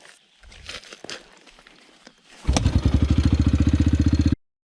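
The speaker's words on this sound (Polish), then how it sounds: "Jak się wywalicie, to można odpalić motor ręką." Yamaha TTR 125L motorcycle being kick-started by hand, with faint rustling and clatter before the engine catches and runs in a fast, even single-cylinder putter for about two seconds, then cuts off abruptly.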